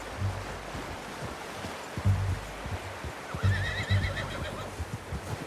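A horse in Red Dead Redemption 2 gives a soft whinny over low, steady clip-clop hoofbeats and a rushing wind-like backdrop, all fairly faint.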